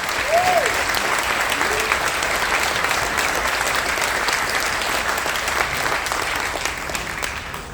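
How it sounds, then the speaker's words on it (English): A shipboard audience aboard the Carnival Dream cruise ship applauds women military veterans during a military appreciation event, with loud, dense, sustained clapping throughout and a brief whistle near the start. "Can you give the women a huge round of applause?"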